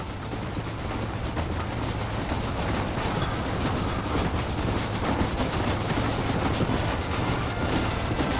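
Continuous rumbling of a moving train in the video game Red Dead Redemption, with rhythmic clattering wheels, loud and steady throughout, with no voices.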